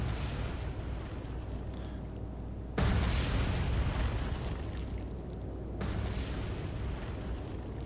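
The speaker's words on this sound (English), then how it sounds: "torpedoes detonating all over the place, except on submarines" Torpedoes detonate in a Battle of the Atlantic naval warfare video game, heard as a continuous deep, rumbling wash of explosions that swells louder partway through and then eases slightly, with no voices.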